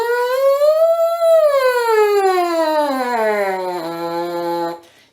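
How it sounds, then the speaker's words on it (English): A buzzing French horn mouthpiece glides smoothly up in pitch and then slowly down, a single sustained siren-like sweep played alone, close and fairly loud. "One of the fun things I like to do is practicing sirens on my mouthpiece"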